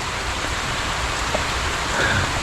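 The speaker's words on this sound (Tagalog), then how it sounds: "Umulan na naman." Steady rain patters on a farmhouse building site as a broad hiss, even and unbroken, with a few drops landing nearby.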